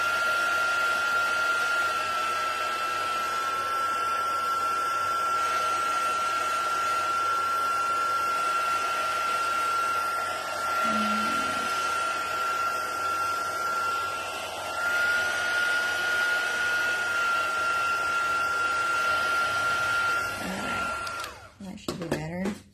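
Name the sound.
heat gun drying ink on a card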